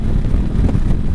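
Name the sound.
wind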